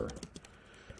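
Quick, close keystrokes tap out a folder name on a computer keyboard, a light flurry of about half a dozen soft clicks over a quiet room.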